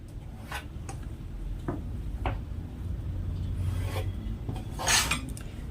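Chalk or pencil scraping a line across blouse fabric laid out for cutting, a few short raspy strokes with pauses between, close and fairly quiet, no talking.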